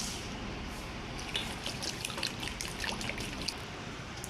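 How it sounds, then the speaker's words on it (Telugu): Water poured into a bowl of rice to soak, a soft steady trickle and splash heard close and quiet, with no talking. "సో ఇందులో కొంచెం వాటర్ కూడా యాడ్ చేసుకొని నానబెట్టుకుందాం."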